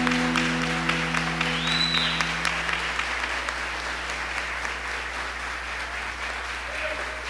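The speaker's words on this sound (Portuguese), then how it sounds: "Pode dar um aplauso, Senhor." A church congregation applauds with steady, sustained clapping that fills the whole stretch, moderately loud and even, with a faint tone early on.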